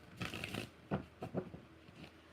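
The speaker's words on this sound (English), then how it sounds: "4 shuffles." Tarot cards are shuffled by hand in several quick, soft riffling bursts, close and quiet, with short pauses between them and no voices.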